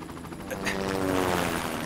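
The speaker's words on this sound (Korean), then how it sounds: "소방서의 새로운 헬리콥터래." A fire station's new helicopter in a children's cartoon, its rotor and engine noise a steady, fairly loud whirring hum that swells slightly over two seconds.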